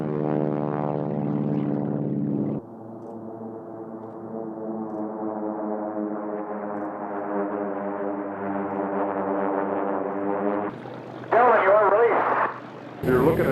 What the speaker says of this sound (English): You're looking at 6 airplanes out there as they come down